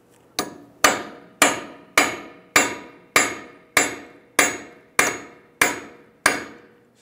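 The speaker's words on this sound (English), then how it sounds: "Just gonna take a punch and a hammer." Eleven hard metallic hammer blows ring out at a steady, unhurried pace, each one striking a punch against the axle of a 1998-2010 Volkswagen Beetle front hub with a sharp clang that quickly decays.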